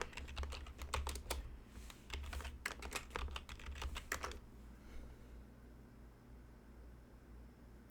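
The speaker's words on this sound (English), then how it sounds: "Let me just type it in." Typing on a computer keyboard while entering a command for Rails seed data, a close, quick run of key clicks for about four seconds, then stopping and leaving only faint room hiss.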